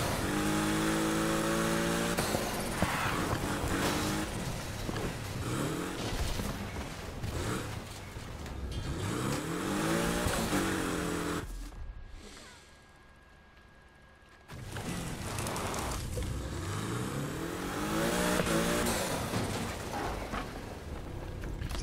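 A car engine in the racing game Need for Speed Heat drives and revs, rising and falling in pitch through gear changes, with a brief near-silent dip in the middle before the engine roars back.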